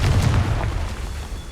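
A Confringo fire-blast spell bursts in Hogwarts Legacy, a heavy booming explosion with a deep low rumble that hits loudly at the start and rolls on in a sustained roar.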